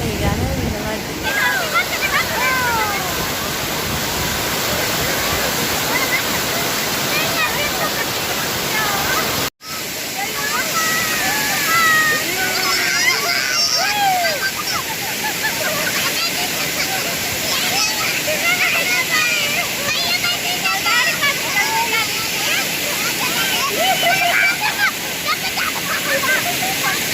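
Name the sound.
waterfall at Pampuram temple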